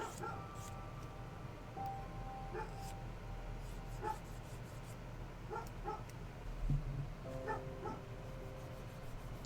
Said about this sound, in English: Sounds moderately serious level of barking.